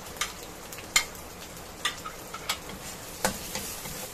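Crushed garlic and then onion sautéing in a pan for pork caldereta, a low steady sizzle broken by sharp scraping stirs and taps every second or so, close and fairly quiet with no voices.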